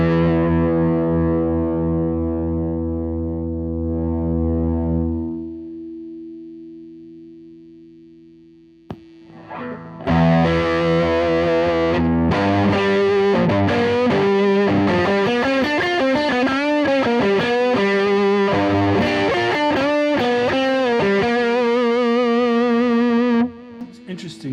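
Electric guitar played through a small plexi-style mini distortion pedal: a held, fading chord, a brief gap, then a steady run of crunchy, overdriven chords and notes, loud and close, with some talk early on.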